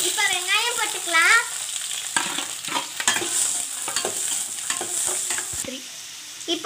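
Chopped onions sauté in hot oil in a pan for chicken cutlet, with a steady close sizzle and repeated scraping stir strokes, and a brief voice early on.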